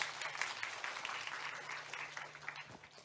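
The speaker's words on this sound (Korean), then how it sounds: "다시 한번 큰 박수 부탁드립니다." An audience at a special lecture on using Korean big data claps together in a sustained round of applause, a moderately distant, even patter lasting throughout.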